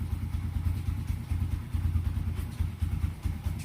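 Motorcycle engine running steadily in first gear while riding during a speedometer test, a continuous close low rumble with slight throttle swells and faint clatter, no talking.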